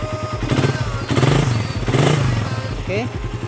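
A Suzuki Satria FU 150 motorcycle engine, recently hard to start, fires up and runs with a steady low rumble and rising revs, close by, while someone talks over it.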